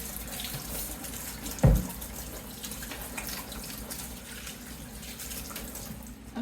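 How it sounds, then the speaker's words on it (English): Hands being washed under a running tap at a kitchen sink; a steady water rush throughout with one brief clunk early on, close and with no talk. "So let me wash my hands real quick."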